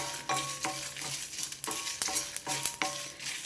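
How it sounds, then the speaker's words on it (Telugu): Dried red chilies fry in a pan for a bitter gourd spice dish, a steady sizzle broken by several scraping stirs and clinks of a spoon against the pan, close up and with no talking. "ఇప్పుడు ఎండుమిర్చి కూడా వేసుకుందాం ఎండుమిర్చి వేసేసా ఇవి కూడా లైట్గా వేగాలి"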